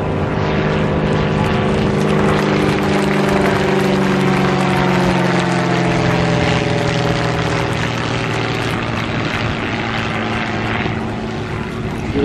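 Aerobatic propeller airplane flying an inverted salute pass at the Jesolo European Airshow, its engine a loud, steady drone with slowly shifting pitch that holds throughout.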